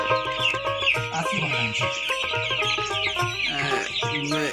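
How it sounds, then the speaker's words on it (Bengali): Many Paris breed chickens cluck and chatter continuously at close range, a dense overlapping flock sound with no talking. "প্যারিস মুরগি?"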